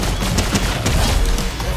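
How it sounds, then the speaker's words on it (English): Incoming gunfire striking the player in Fortnite, a dense, loud burst of rapid overlapping shots and impacts that continues without a break. "Oh, I'm getting shot again by something else."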